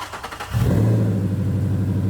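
A rebuilt Boss 302 Mustang engine cranks and catches, then settles into a loud, steady rumbling idle with a slight rev, close by.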